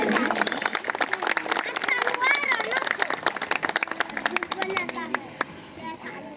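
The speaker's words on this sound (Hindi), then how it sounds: "जोरदार तालियां बजाएंगे।" An audience claps at a New Year celebration in a colony gathering, with irregular bursts of hands mixed with children's voices and chatter, fairly close and lively, tapering toward the end.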